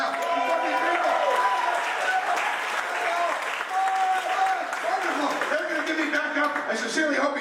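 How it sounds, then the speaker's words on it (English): Sustained applause from a sizable audience, steady and dense throughout, with some cheering and voices mixed into the clapping. "Can we have a big round of applause for the dancers coming out right now?"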